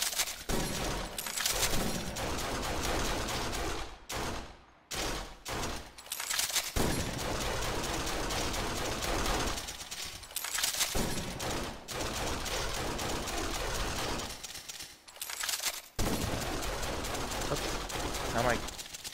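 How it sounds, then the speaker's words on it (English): Gunfire from the player's gun in the PSVR horror shooter Kill X: dense bursts of rapid shots that fill most of the stretch, broken by a few short pauses, loud and close. "Now my gun's firing up there."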